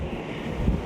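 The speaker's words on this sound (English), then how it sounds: "it is windy" Steady wind buffeting a microphone on the wraparound balcony of a cruise ship, the Icon of the Seas, a continuous loud low roar with gusts and no speech.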